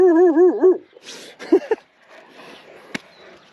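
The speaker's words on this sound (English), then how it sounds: "There are dogs there." Dogs make a high, wavering whimpering whine at close range, then give a few short yips and rustling movements, with one sharp snap near the end.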